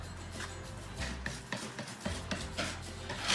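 Fast-setting sheetrock mud is pressed and scraped into seams and gaps with a tool, making close, uneven scraping and rubbing strokes with small knocks.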